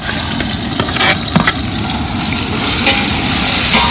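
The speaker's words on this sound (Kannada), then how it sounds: "ಈರುಳ್ಳಿ ಹಾಕೊಂಡು ಚೆನ್ನಾಗಿ ಫ್ರೈ ಮಾಡ್ಕೋಬೇಕು." Onions, tomato and green chillies frying and being stirred in a pot outdoors for a village-style pork curry, a steady close sizzle with scraping stirs, a few sharper clacks early on, no voices.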